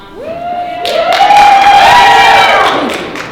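A room of people at a press conference for The Voice Season 9 finale with Jordan Smith and Adam Levine breaks into loud, close applause mixed with whoops and cheers, building and holding for a few seconds.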